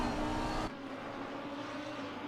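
A Lamborghini race car on a wet track at Misano, its engine roaring loudly before quickly dropping to a steadier, softer whir as it moves away.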